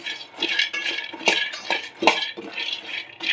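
Raw peanuts dry-roasting in a pan for peanut chikki while a spoon stirs them, making close rhythmic bursts of rattling and scraping that rise and fall, with no talk.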